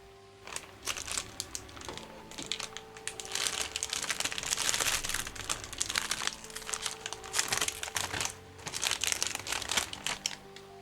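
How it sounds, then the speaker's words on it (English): A bag of Hot Cheetos crinkles and rustles up close in irregular bursts, over soft tonal game music in the background. "Hope you're enjoying the ASMR of a crinkling bag."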